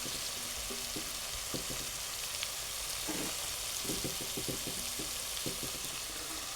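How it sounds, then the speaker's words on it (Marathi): Fenugreek (methi) leaves sauté in a hot pan with a soft, steady sizzle. Faint scraping stirs tap through it now and then. It is quiet and close, with no voices. "थोडीशी परतून घेऊ."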